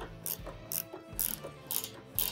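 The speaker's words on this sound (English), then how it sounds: "I'm using the socket and ratchet on the bottom" A socket and ratchet tightening a recessed bolt while a Can-Am Commander expedition rack is installed, giving quiet clicking ratchet strokes in repeated bursts, about five quick pawl runs, close up with no talking.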